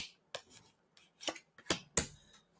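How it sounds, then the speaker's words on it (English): Playing cards being shuffled at a psychic reading, heard as several short crisp riffling bursts spaced irregularly at close range, with no talking. "I have been shuffling, and I am not taking that."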